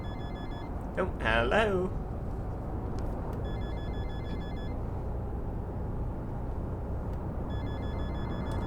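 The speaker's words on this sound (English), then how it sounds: "Can someone answer the phone, please?" An in-game telephone rings in repeated short bursts inside the Fernbus Coach Simulator, driving the Top Class DD double-decker coach, over a steady rumble of engine and road noise, with someone speaking briefly.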